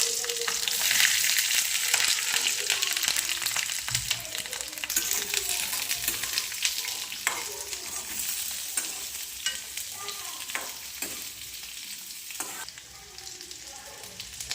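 Carrots and chillies stirred and sizzling in hot oil in a pan for Gujarati sambharo, a continuous dense frying hiss with scraping stir strokes throughout.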